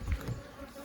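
Honeybees buzz softly around a hive being split into a walkaway split, a faint low hum lasting only a moment.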